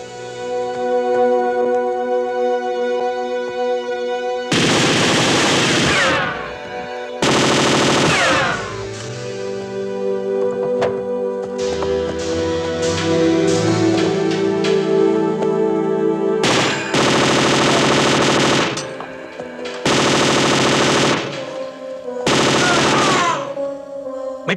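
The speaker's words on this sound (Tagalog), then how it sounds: "May putukan!" Gunfire in a Filipino action film: bursts of machine gun fire and single gunshots repeat loudly over a music and effects soundtrack, several sustained volleys separated by short gaps.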